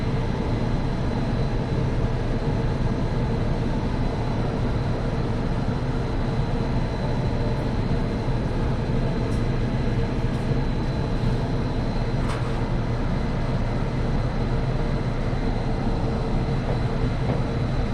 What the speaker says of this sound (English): This is the train to West Side Avenue